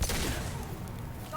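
Gunfire in Mass Effect 2, a dense, rumbling burst of shots that starts loud and tails off over about a second, with talk mixed in.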